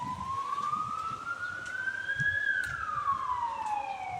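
An ambulance siren wails in a single long rising-then-falling sweep, loud and steady, heard from a riverside walk near a city with faint background noise and no talk.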